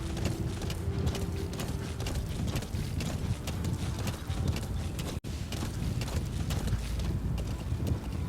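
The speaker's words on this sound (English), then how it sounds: "Now let's have a run with the horse." A horse gallops in Metal Gear Solid 5: The Phantom Pain, a steady rapid clip-clop of hooves with mechanical clatter, close and continuous, dropping out briefly for a moment before resuming.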